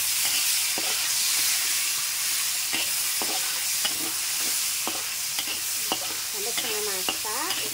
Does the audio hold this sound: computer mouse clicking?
no